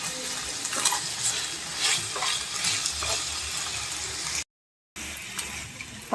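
Pork pieces for menudo, seasoned with a little oyster sauce, sizzle steadily in a pan while a utensil stirs and scrapes through them, with a brief break in the sound near the end.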